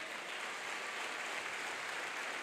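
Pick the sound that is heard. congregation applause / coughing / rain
congregation applause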